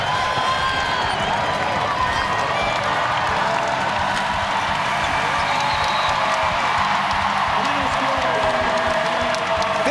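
A packed Gampel Pavilion crowd rises to its feet during the closing seconds of a UConn women's basketball win, a dense, steady roar of cheering and clapping that fills the arena, with a commentator talking over it.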